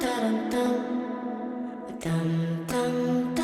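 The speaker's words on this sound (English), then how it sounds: "we get this massive, lush, wide 3D reverb with an awesome sounding decay" Stacked vocal harmony drenched in a wide, lush 3D reverb, sustained sung chords with long decaying tails that bloom and fade between phrases.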